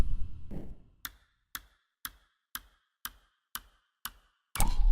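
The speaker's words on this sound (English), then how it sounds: "And the new timer buttons ticking sounds." Crisp, evenly spaced ticks from a video game timer button, seven sharp clicks about half a second apart, with a short busy burst before and a louder swell of game sound cutting in at the end.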